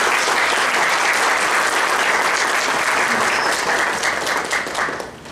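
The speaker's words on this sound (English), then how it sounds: "we quickly just welcome them and felicitate them with a round of applause" Sustained audience applause fills an inaugural and orientation ceremony hall at a management institute as a faculty member is welcomed, loud and steady throughout before starting to taper near the end.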